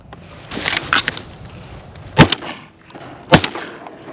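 Shotgun blasts during a duck hunt in Montana, with ducks flying overhead: two sharp, loud reports about a second apart over outdoor background noise, plus quieter earlier pops, and no talking.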